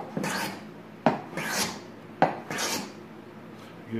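Repeated rasping strokes of a small smoothing hand plane made of ipe and maple shaving a wood board, four even passes about a second apart, close and clear.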